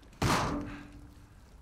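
Diving gear tank tossed down in Uncharted 4, a single solid thunk with a short metallic ring as it lands, close and clear.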